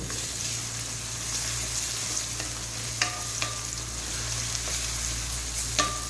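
Ginger garlic paste sizzles and fries with onions in a pan for mutton pulao, a steady close frying hiss throughout with a few brief scraping stirs of a utensil.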